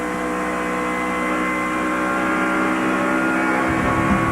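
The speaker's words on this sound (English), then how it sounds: "On board with Dale Earnhardt Jr. as he goes down in turn 3 at the Atlanta Motor Speedway" Dale Earnhardt Jr.'s race car engine roars steadily, heard onboard through turn 3 at Atlanta Motor Speedway during the 2001 NAPA 500. The drone is loud, close and continuous, with its pitch shifting slightly near the end.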